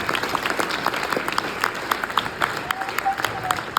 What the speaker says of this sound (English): could we all just give Scott a big round of applause for that?